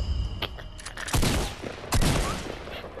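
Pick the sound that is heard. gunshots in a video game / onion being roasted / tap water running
gunshots in a video game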